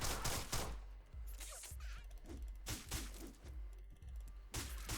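Gunfire in the video game Deadbolt cracks out in a rapid series of sharp, loud shots with short gaps between them, some mechanical clicks in between and no talk.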